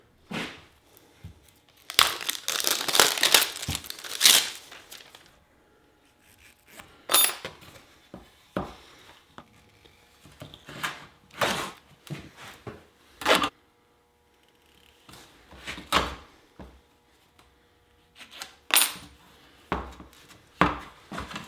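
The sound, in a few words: wrapping a shovel handle with Gorilla Tape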